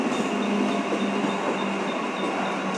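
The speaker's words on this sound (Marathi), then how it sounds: "विरार लोकल आली बघा" A Virar-bound Mumbai suburban local train pulls into the platform with a loud, continuous rolling rumble and metallic hum that holds steady throughout, with no talking.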